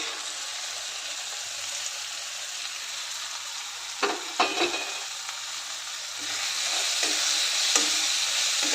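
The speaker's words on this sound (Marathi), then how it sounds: "आता यामध्येच आपण ओले हरभरे घालून 1-2 मिनटं भाजून घेऊयात." Green chickpeas and garlic frying with onion and tomato in a pan for a chickpea curry: a loud, continuous, close hiss of sizzling oil, with a few short stirring scrapes midway and no talking.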